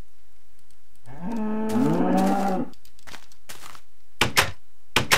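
A single long, loud moo from a cow in the video game Minecraft, followed by a few short knocking clicks near the end, with no talking.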